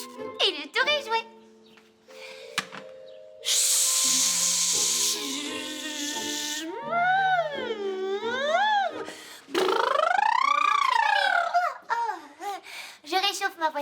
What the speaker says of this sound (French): Un petit peu de mon parfum préféré, eau de princesse irrésistible.